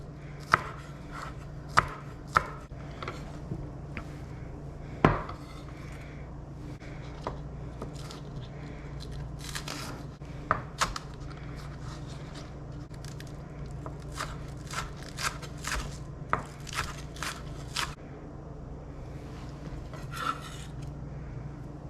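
A knife slices green onion on the bias against a cutting board for a potato hash bowl, giving irregular close, crisp taps and scrapes through steady quiet kitchen background with no talking.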